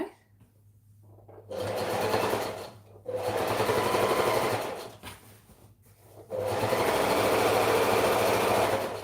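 A sewing machine stitches a hemline half an inch in, running in three long bursts separated by short pauses, loud and near with a whirring motor and rapid needle rattle.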